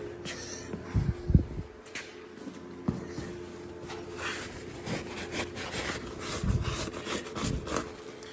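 Dirt is wiped and rubbed off the grimy frame of a 1972 Chevy K20 pickup near the steering box, making irregular scraping and brushing strokes, close and fairly loud, with a few sharper knocks.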